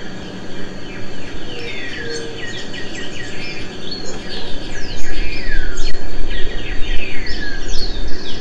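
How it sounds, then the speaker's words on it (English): Several birds sing and chirp with rising and falling whistles in the Paraná River Delta, close and lively, over a constant insect-like buzz and outdoor hiss. "Just listen to the birds of the Delta for a minute."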